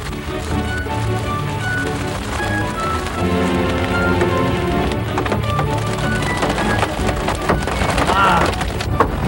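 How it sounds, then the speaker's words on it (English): Hail pounds on a storm chasing vehicle during a 1995 storm chase, a loud, dense clatter of hard impacts against the body that keeps up without pause and thickens partway through. "The rain and hail pick up again. Back on the road, still more hail."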